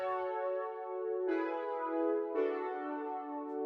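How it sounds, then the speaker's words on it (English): Synthy 80s-style electric keys from an Analog Lab instrument play three sustained chords, each swelling in with a soft attack and ringing smoothly into the next, heard alone with no drums or voice. "I brought in some keys that I found from Analog Lab."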